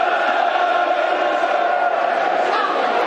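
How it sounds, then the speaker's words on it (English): Football crowd at Millwall against Blackpool, a steady dense roar of many voices cheering and chanting across the stands, continuous and fairly loud throughout. "Crowd getting behind the game"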